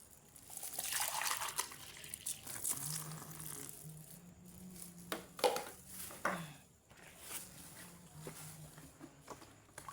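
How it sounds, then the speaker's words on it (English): About two liters of water poured into a thick liquid soap mixture, a quiet, intermittent trickling and splashing in a calm indoor setting. "let me add 2 liters of water"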